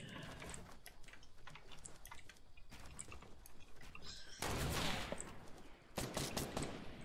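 Video game gunfire with a mountain sniper nearby: rapid crackling bursts of shots throughout, growing louder in a heavy volley toward the end, with no clear talk.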